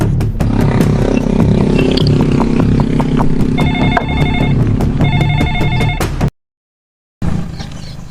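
A telephone rings in two short bursts of repeated electronic trills, heard over a steady background of music and clatter, then a brief drop to silence.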